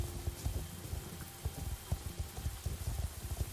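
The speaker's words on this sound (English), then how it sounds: "But I have the rain sounds and you can still see the rain." Rain in the horse-riding video game Star Stable: a steady soft patter of drops with small irregular spatters, fairly faint and continuous with no talking.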